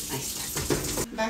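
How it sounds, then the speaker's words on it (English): Water pours steadily into a pot of rice while cooking mole, a continuous close splashing rush that cuts off sharply near the end, followed by a brief voice. "You want the water to cover the rice."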